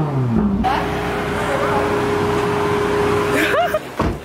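Ferrari car engine idling in a garage, a steady loud hum with a sustained tone and brief revs at the start and end, with people talking over it.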